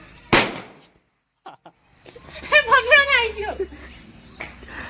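One sharp, loud Diwali firecracker bang right at the start, then a brief quiet before people begin talking nearby.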